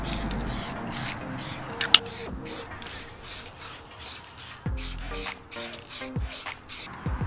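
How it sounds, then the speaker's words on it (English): Black DupliColor vinyl and fabric spray paint hisses from an aerosol can in repeated short bursts while painting the interior of an EK hatchback, close and steady with brief pauses between sprays. "So shake that up real good. And then start spray painting."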